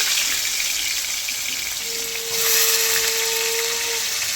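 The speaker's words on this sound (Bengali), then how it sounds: "পনির ভাজা তেলে এইবার আমি উচ্ছেগুলো ভেজে নেব" Bitter gourd pieces fry in oil previously used for paneer, giving a steady, loud hissing sizzle that swells slightly partway through, with a thin whining tone running alongside.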